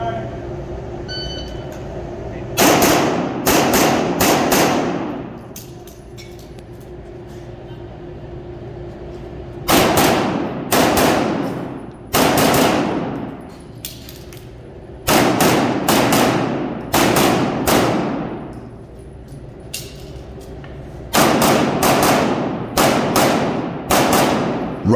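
Gunfire at an indoor USPSA shooting match comes in several rapid strings of loud, sharp handgun shots that echo in the range, separated by quieter pauses in which a commentator talks.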